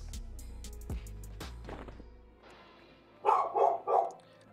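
In a video game, a dog barks three quick times close by near the end, following a few dull thumps and rustles, with no talking.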